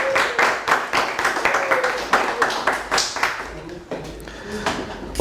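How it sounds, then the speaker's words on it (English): A classroom of students clapping hands in a quick, uneven patter of close, sharp claps that thins out toward the end, with some voices mixed in. "Clap hands for"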